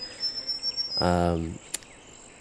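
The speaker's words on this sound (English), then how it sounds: "you head out of the camper and you just hit with the sounds of cicadas and insects" Insects buzzing and chirping in the countryside outside a camper in a GTA video game, a steady high hum running throughout with a brief louder harmonic burst in the middle and a faint word spoken over it.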